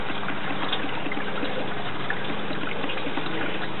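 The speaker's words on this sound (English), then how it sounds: "Water will fill in." Water steadily pours into a Doughboy above-ground pool sand filter tank, a continuous, fairly loud broadband rushing and trickling with no talk and no breaks.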